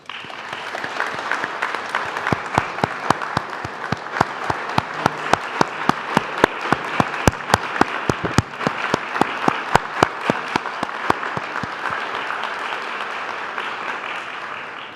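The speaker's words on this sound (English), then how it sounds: "I'd now like to invite all my fellow graduates to stand and applaud all the people mentioned, but also applaud each other" Graduates and guests at a university graduation ceremony applaud steadily for about fifteen seconds, with loud individual claps standing out close by over the dense clapping of the crowd.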